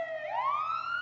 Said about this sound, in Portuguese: essa sinalização piscou a luz, tocou a sirene